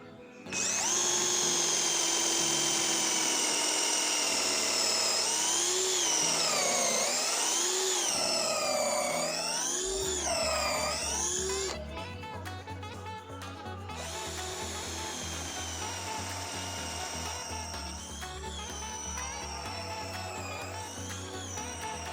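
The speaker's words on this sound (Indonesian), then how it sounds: "Saya akan mengebor pada media kayu mahoni." A cordless impact drill, a budget DeWalt-style unit, bores a 6 mm bit into a 15 cm thick block of mahogany. The loud, close motor whines and shifts pitch under load. Partway through, a deeper grinding rumble takes over as the bit bites.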